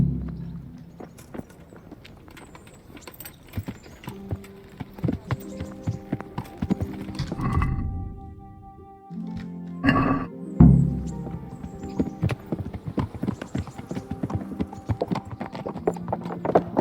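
Horse hooves clip-clop at a walk while riding in the medieval game Kingdom Come: Deliverance, a steady close rhythm of hoofbeats that runs throughout, joined by a brief whinny near the middle.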